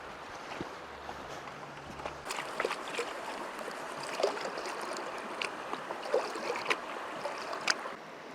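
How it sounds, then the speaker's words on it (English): Creek gravel and water swirl and slosh in a gold pan, with irregular splashes, trickles and small pebble clicks close up. No one talks. "So let's just pan this out."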